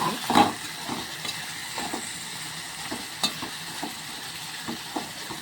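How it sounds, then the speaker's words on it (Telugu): Onions and tomatoes frying in a little oil in a pan for peanut-tomato chutney give a continuous soft sizzle, punctuated by a scatter of light stirring clinks and taps, close and with no talking. "ఉల్లిపాయలు వేసుకున్నాము. టమాటాలు ఉడికినా లేదా చూద్దాం."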